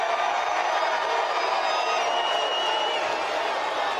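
Political rally crowd cheering and roaring in a steady, dense wash of voices, loud and continuous throughout, with no single speaker standing out.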